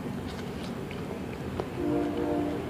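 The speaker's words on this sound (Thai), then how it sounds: "ได้ยินเสียงรถไฟไหมคะ" A train passes at a distance during an outdoor dinner, a low rumble with a brief sustained horn-like tone near the end, faint and steady throughout with no talk.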